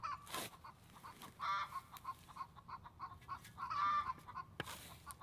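Hens cackle loudly after laying an egg, in two rhythmic bouts, rising and repeating, with quieter clucks and scattered bird calls between them.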